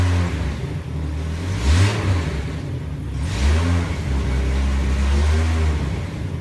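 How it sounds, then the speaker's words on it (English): A Jeep XJ engine with a newly fitted throttle body spacer revs twice in close succession, each rise swelling and falling back, then climbs into a longer sustained rev. The sound is loud and close, with no talking. "Let's give it some revs,"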